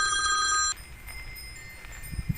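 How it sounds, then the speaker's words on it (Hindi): A telephone rings with a bright, electronic trill that is loud at first and then cuts off abruptly, leaving faint background noise and a few soft knocks. "हाँ अरे सोनी भाई फोन।"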